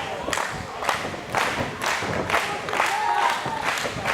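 A boxing crowd cheers for Levi Connors in his bout against Brandon Fields, rising in repeated bursts of roaring and clapping with thumps from the ring, while a commentator talks over the din.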